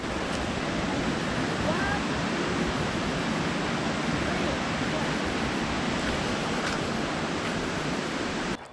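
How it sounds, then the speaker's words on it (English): A 150-foot waterfall near Chiang Mai, Thailand, heard from above as a dense, steady roar of rushing water, constant and broadband throughout, with no voices over it. "Let's take a look at the waterfall from above."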